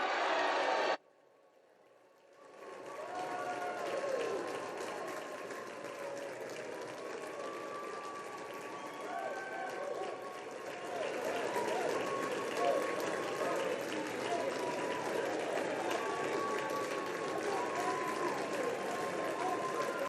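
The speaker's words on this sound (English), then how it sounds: "The jubilance from House Democrats right now, literally jumping up and down on the House floor in a huddle, clapping, hollering." House Democrats on the House floor clapping and cheering after a bill passes, a dense wash of applause and hollering that swells after a brief quiet gap and continues steadily, with voices mixed in.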